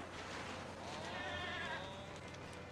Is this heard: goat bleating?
yes